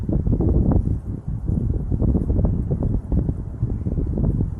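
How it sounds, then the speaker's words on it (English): Strong wind gusts buffet the microphone of a DJI Avata FPV drone flying in high wind, a loud continuous low roaring rumble with brief dips between surges. "these wind gusts, you know, you get a little break and then all of a sudden the wind gust will grab it"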